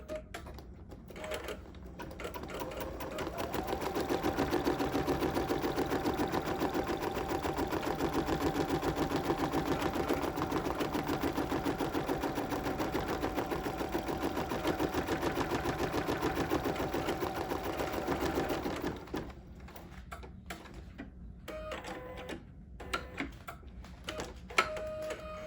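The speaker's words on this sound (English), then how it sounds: "So we're going to go ahead and let the machine stitch that." An embroidery machine stitches a placement line on a holiday fabric collage, a steady rapid mechanical chatter of needle strokes that builds and runs for about fifteen seconds, then gives way to sparser ticking and faint handling sounds, with no voices.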